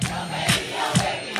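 A crowd at an ALS Walk pre-opening ceremony yells back at the announcer in short, loud bursts, about four rhythmic shouts in quick succession with brief pauses between them.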